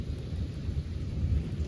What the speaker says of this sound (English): You can hear the thunder, it was constant.